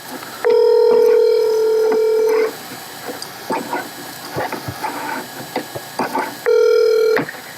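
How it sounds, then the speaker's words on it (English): A phone places a call, sounding two long, loud, steady electronic tones separated by a few seconds of scattered clicks and small noises. "I'm calling Jargon again"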